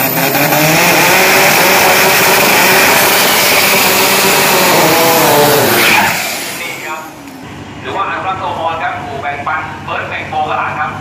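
Isuzu pickup race car at the Isuzu Race Spirit 2022 drag start, its engine blaring loud and close as the brake is released, then cutting abruptly to a quieter, sputtering idle while a voice talks over it.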